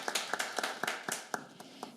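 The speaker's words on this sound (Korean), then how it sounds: "큰 박수로 맞아주시기 바랍니다." A small audience at a health policy forum claps to welcome a guest, with a thin run of distinct, evenly spaced hand claps over a couple of seconds and no talking.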